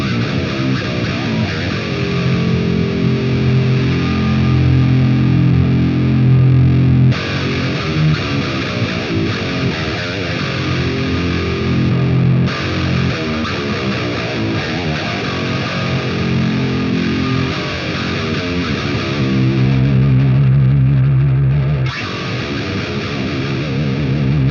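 Heavily distorted electric guitar chugs through one channel of a 5150-style amp, either a 1994 5150 or a Synergy 6505 module, playing loud, steady palm-muted riffs with brief pauses between phrases.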